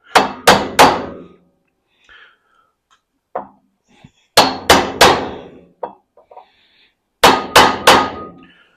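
An aluminum drift is hammered to drive a wheel bearing into place: three sets of three loud, sharp metallic blows, with scattered softer taps and knocks between them.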